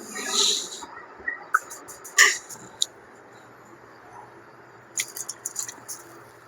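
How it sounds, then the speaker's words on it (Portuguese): Rice being stirred in water inside a cooking pot gives soft, quiet squishing and sloshing, broken by a few sharp clicks of the utensil against the pot, with no talking. "conforme eu mexo, eu não descubro o arroz"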